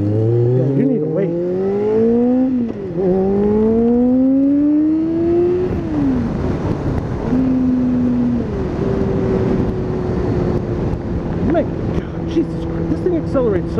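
A carbureted Kawasaki ZZR600 motorcycle accelerates hard and close, its engine note climbing steeply, then dropping back at each upshift before climbing again through several gears, loud throughout.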